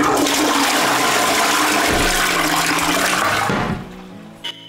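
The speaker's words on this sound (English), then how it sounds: "I'm going to empty the water into the toilet after I've put on a new toilet roll." A toilet flushing after a bucket of cleaning water is emptied into it in a house, loud and rushing for several seconds before draining away, with a small clunk near the end.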